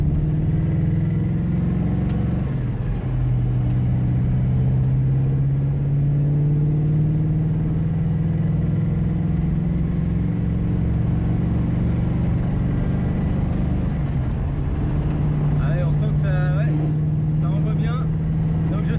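A modified 1970 Pontiac GTO V8 rumbles steadily and close, with a low engine drone that holds for the whole stretch and swells slightly near the end, under people talking.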